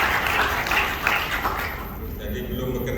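A dense wash of applause from a crowded audience greets the new chairman of a law lecturers' association in Riau, steady and fairly loud, with a voice speaking over it as it fades.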